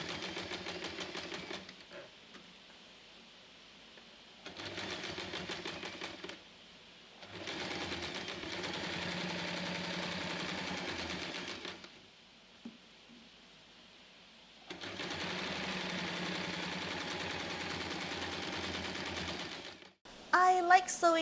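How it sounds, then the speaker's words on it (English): Sewing machine running in bursts while top stitching around the top edge of a reversible tote, several stretches of steady whirring separated by pauses, close and moderately loud. "And then top stitch around the top edge."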